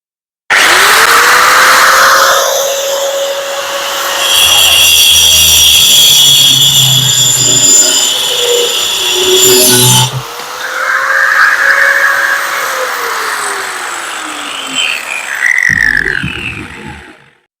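A power tool blade cuts through a 3/4 inch cement V board, a steady loud whine rising and falling over about sixteen seconds with a brief pause midway, heard up close and without talk.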